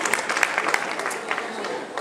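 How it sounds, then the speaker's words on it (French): An audience at a 2008 sports awards night in Berre-l'Étang claps for a young cyclist, with sparse, uneven hand claps and faint voices under the applause. "Alors on l'applaudit Vincent Marnat."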